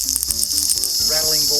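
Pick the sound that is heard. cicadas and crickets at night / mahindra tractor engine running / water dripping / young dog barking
cicadas and crickets at night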